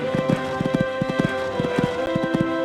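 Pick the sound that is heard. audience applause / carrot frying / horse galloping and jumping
horse galloping and jumping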